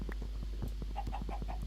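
A chicken in the Minecraft FTB Monster game clucks in a quick run of short, soft notes over a steady low hum.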